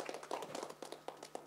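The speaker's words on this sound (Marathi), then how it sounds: "जोरदार टाळ्या आशिष यांच्यासाठी" Audience clapping for a film's editor at a Marathi film trailer launch, a scattered round of claps of uneven rhythm, fairly faint and distant, with no talk over it.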